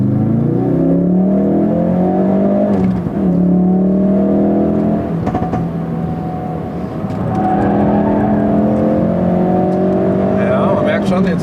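A 2016 Ford Focus RS with its 350 PS engine drives on a track in drift mode. It drones steadily with shifting revs throughout and sounds close and loud, with a voice talking over it.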